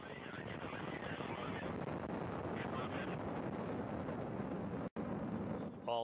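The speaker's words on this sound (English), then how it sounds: "We have liftoff of the 65th Progress resupply vehicle" Progress 65 cargo rocket lifting off from Baikonur, a continuous loud broadband roar with wind buffeting that holds steady for several seconds, briefly cutting out near the end.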